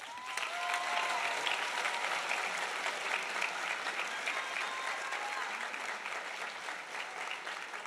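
An audience claps for educators and students at a superintendent's honors night, dense sustained applause that holds steady throughout, with no voices standing out.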